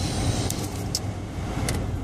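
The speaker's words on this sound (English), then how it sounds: "I'm in the car, stuck in LA traffic" A car stuck in Los Angeles traffic, heard from inside the cabin: a steady low engine and road rumble with a few faint clicks and rattles, and no talking.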